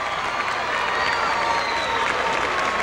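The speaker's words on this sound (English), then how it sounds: "Let's give them all a round of applause before we start" An audience at an all-star game pageant gives the queens a round of applause, dense, steady clapping mixed with a few cheers that holds evenly from start to finish.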